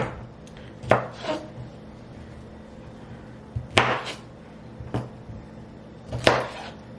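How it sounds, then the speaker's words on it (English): A knife chops through broccoli on a cutting board, with a few distinct sharp cuts spaced a few seconds apart, some coming as quick doubles, over a low steady room hum. "while I'm cutting the broccoli"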